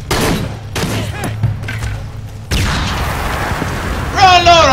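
Shotgun blasts in the video game Shadow of the Tomb Raider, a few loud booming shots in quick succession amid a noisy firefight, with a rising whistle-like tone near the end.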